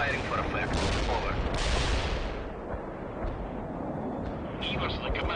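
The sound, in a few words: artillery firing for effect in World in Conflict video game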